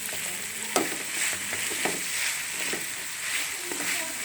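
A chicken, vegetable and macaroni mixture fries in a pan, a steady close sizzle punctuated by a few sharp spatula knocks and stirring scrapes, with no one speaking.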